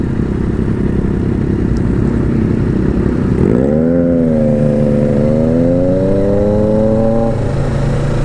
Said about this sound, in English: Man, that Triumph sounds pretty nice.